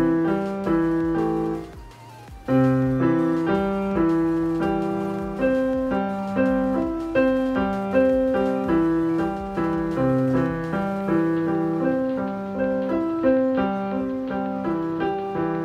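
A piano exercise played with both hands, left and right, steady repeated note patterns rolling along in an even rhythm after a brief pause near the start.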